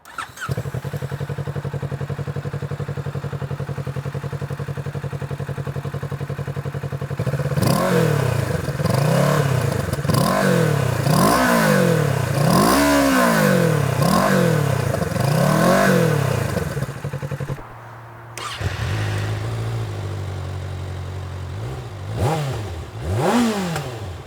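Kawasaki Ninja 650 and ZX-6R sport bikes idle steadily, then rev repeatedly in rising and falling sweeps, loud and close; after a brief cut the engine idles again and gives a couple more blips.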